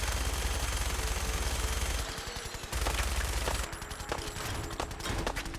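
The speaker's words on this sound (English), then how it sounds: "is your gun stuck shooting things?" Continuous automatic gunfire from a gun stuck firing in a wasteland shooter game, a steady rapid rattle that cuts out briefly twice and resumes, loud and close.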